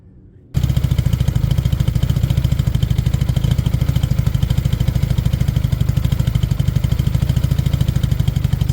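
A Chinese 250cc motorcycle engine catches after a brief quiet moment and settles into a loud, steady, rattly running beat close by, with no voices.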